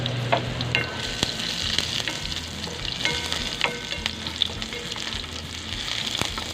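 Garlic and onion sautéing in a pan for kinamatisang pork pata, a loud, steady sizzle and crackle with occasional clinks of stirring, close up and with no talking.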